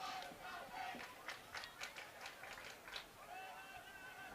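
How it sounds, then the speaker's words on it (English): Girls high school ultimate frisbee players cheering for their team from the sideline at a state semifinal, a burst of rhythmic shouts and whoops from a small crowd, somewhat distant. "It's a bunch of Cleveland players primarily cheering for them."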